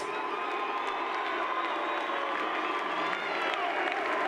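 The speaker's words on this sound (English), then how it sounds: "How about a nice round of applause for Jason Bright?" A crowd applauds and cheers at a 2003 Supercars trophy ceremony at Eastern Creek, a continuous wash of clapping and whoops at moderate distance.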